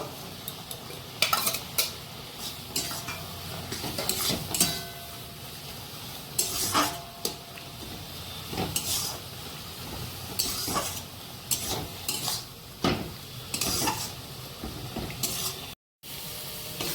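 Kachki fish stirred in a pan with sour spinach, sizzling under repeated scrapes and clinks of a metal spatula against the pan in irregular bursts, close up, with no talking.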